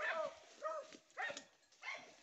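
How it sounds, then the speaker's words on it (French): Jujube the dog barks during a wild boar flushing in brambles on a farm: four yelping barks at a steady, unhurried pace, fairly close and clear, with no talk over them. "C'est Jujube qui aboie."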